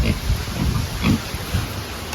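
A pig gives several low, close grunting oinks in irregular bursts, with rough farmyard background noise between them.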